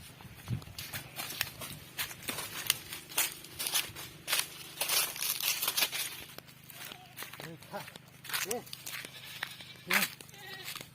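Goats bleat several times, nearby and fairly loud, over a steady clatter of hooves and rustling, with voices in the background.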